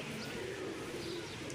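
Teddy pigeons coo softly and steadily in a loft, a low murmuring call close by with faint chirps mixed in.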